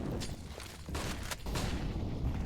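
Bursts of Tec-9 pistol fire from a CS:GO esports match on the Vertigo map, several sharp shots in quick succession over a busy game background, with no voices.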